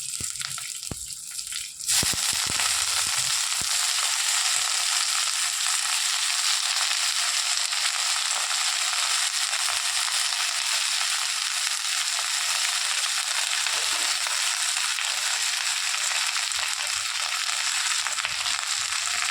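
Mint leaves for a weight-loss pudina chutney hit hot oil in a pan, setting off a loud, steady, dense sizzle that keeps going without a break after a brief quieter start.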